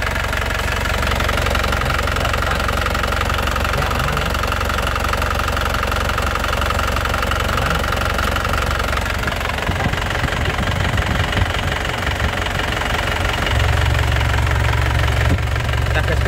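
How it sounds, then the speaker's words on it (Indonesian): Black 2010 Isuzu Panther LS Turbo diesel engine idling steadily, a loud, continuous knocking rumble close by that holds an even rhythm throughout. "Ini suaranya lur ya, suaranya enak, stabil ya, stabil enak."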